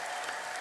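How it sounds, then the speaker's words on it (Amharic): A church congregation bursts into a brief, dense round of applause during a sermon, many hands clapping together in a short continuous wash. "እስቲ ለዚህ ቃል አጨብጭቡ።"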